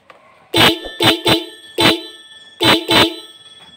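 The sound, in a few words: dual car horn honking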